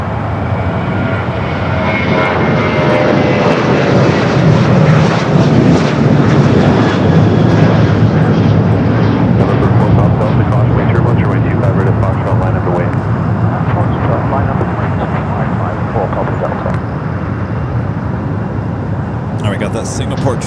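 A Singapore Airlines Boeing 777 bound for Sydney powers up for its takeoff roll on runway 25 right at LAX, a loud steady jet roar held throughout while someone talks over it.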